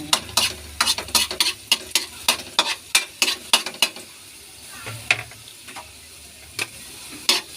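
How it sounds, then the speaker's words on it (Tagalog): Garlic fries in a pan for Filipino pork picadillo with egg as a utensil scrapes and stirs in a quick rhythmic series, with a soft sizzle beneath, close and moderately loud with no voices. "haluin natin hanggang sa magiging brown ng bawang"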